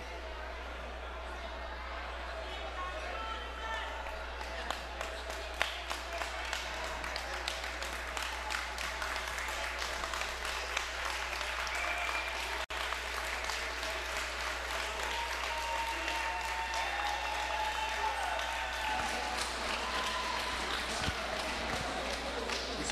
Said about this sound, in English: another round of applause for Eduardo Esquivel